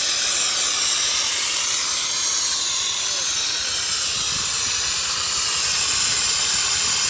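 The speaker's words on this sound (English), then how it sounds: "now the above is the LPG steam car washing machinery" An LPG steam car washing machine sprays steam in a loud, continuous hiss that stays steady and close throughout, with no pauses or talk.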